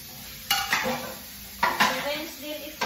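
Ceramic plates and dishes clatter as they are set into a dishwasher rack at home, with a few sharp clinks and knocks spaced apart, close and moderately loud with no talk.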